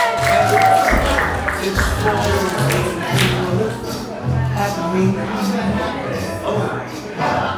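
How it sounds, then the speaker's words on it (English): Applause from an audience at a variety show, with steady clapping, some cheering and crowd babble, while a voice speaks over it. "Give yourself a round of applause."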